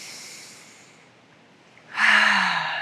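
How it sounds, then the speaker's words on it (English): A slow breath is let out through the mouth, a soft airy exhale that fades, followed by a louder, breathy, sigh-like outbreath near the end. "And then breathing out through the mouth."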